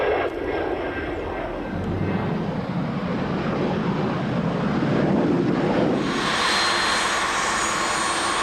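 An American-registered private jet arriving at Sebring, Florida, roars continuously and fairly loud, its engine whine swelling toward the end amid gusts of wind buffeting the microphone.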